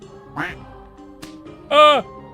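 A duck quack sound effect sounds twice, a short nasal quack followed by a louder, longer one, close and clear over a quiet background.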